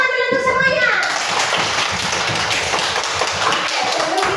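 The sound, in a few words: schoolchildren clapping hands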